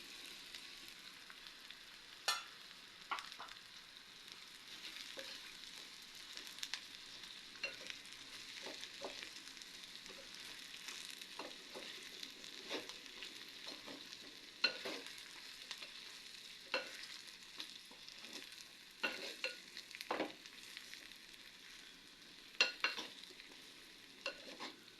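Mango curry cooking in a pan, a soft continuous sizzle broken by the scrape and clack of a utensil stirring at an irregular pace, with no voices.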